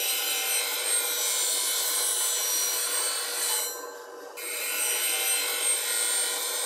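Steady, harsh grinding hiss as a D-Way Tools bowl gouge is ground on a sharpening wheel, removing steel from the heel, loud and continuous with a brief dip near the end as contact eases.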